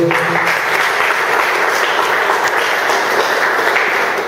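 Steady applause from an audience of priests and seminary formators at a plenary session in Argentina, a dense, even clatter of many hands close by and unbroken.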